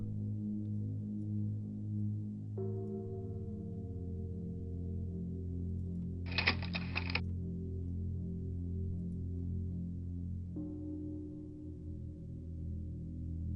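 A key turning in a door lock in a horror radio drama: one short metallic rattle and click, heard alone over a low, sustained eerie drone.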